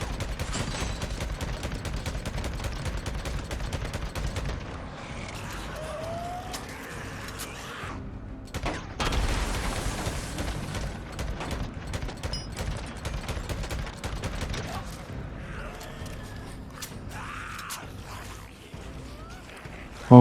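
Rapid, dense gunfire and bursts of shots in the video game Days Gone keep going nearly throughout amid game ambience and engine-like noise, with only a few short gaps.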